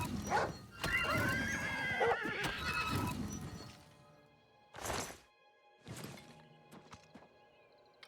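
A horse in the video game Oblivion whinnies loudly and shrilly, followed by a couple of shorter snorts and neighs fading into quiet.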